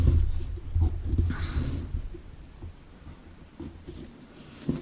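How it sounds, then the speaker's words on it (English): A pen or pencil sketching a basic hydraulic cylinder diagram on paper by hand, giving soft scratchy strokes close to the mic that start and stop in short bursts. "so we're going to draw a basic hydraulic cylinder"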